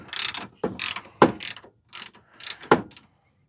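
Ratchet wrench clicking in several quick bursts while backing a 10 mm bracket bolt off a 2011 Toyota Highlander 3.5L V6, close and fairly loud, with short pauses between bursts of pawl clicks.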